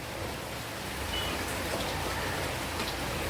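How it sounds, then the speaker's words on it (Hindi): Rain falls in an even, continuous wash of soft patter, moderately close and unvarying throughout, with no one speaking. "कभी भी बारिश आ जाती है"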